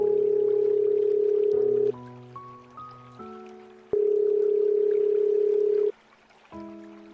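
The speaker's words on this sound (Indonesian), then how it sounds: "Berdering suara handphone Prabu, yang menandakan bahwa panggilan telepon Prabu tersambung ke nomor Widya" A mobile phone rings on an outgoing call, a sequence of sustained electronic tones that step up and down in pitch, broken by brief pauses between phrases.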